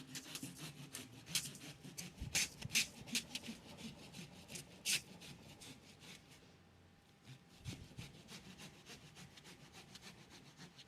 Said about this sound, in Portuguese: Acho que eu tô cortando a casca muito fina.